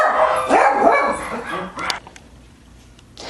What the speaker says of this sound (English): The dogs were barking like crazy.